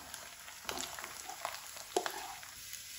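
Sliced onion added to hot oil alongside stuffed bitter gourds, giving a faint, steady sizzle broken by a few soft stirring clicks and pops.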